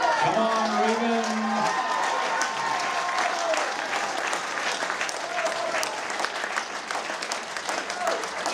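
Spectators at a holiday event in Paeroa, New Zealand clap for a runner in continuous applause, with a voice heard briefly at the start over the crowd.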